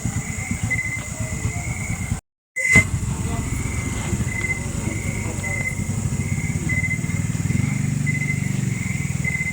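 A motorcycle engine drones steadily up close, a low rumbling putter with a constant high whine above it, cut off by a brief dropout, with voices faintly in the background.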